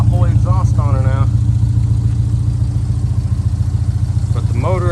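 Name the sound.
Subaru engine running with loud aftermarket exhaust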